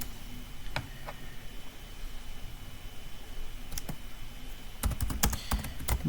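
Someone types on a computer keyboard against a steady background hum, with a few scattered keystrokes early on and then a quick cluster of sharp clicks near the end.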